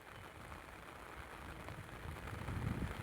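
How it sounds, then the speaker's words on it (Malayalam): Steady heavy rain hisses evenly throughout at a harbour, a continuous wash of drops that stays fairly soft and distant with no voices. "ഇന്ന് ഭയങ്കര മഴയില്"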